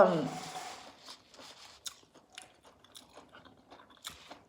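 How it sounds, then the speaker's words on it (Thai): Soft, close chewing of sushi with small crunches, wet smacks and bites repeating irregularly after a brief louder sound at the start, with no voices. "เคี้ยว"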